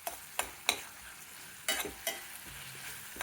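Ginger garlic paste frying in a pan for a bitter gourd masala, with a steady soft sizzle and several sharp scraping strokes of a spoon stirring it, close and without talking.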